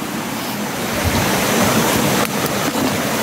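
Steady, full rush of water from a flowing creek, close and loud, a continuous broadband wash with no voices over it.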